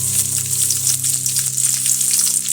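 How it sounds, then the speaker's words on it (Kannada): Two onions fry in half a spoon of oil while making chicken sambar, a steady, close, continuous sizzle with a faint low hum underneath and no talking. "ಕಂದು ಬಣ್ಣ ಬರೋ ತನಕ ಹುರಿಬೇಕು."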